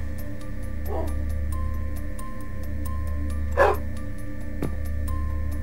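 Dogs in the Minecraft video game bark in a few short, separate yips, one clearly louder than the others, over a steady low game-ambience hum, with no talking.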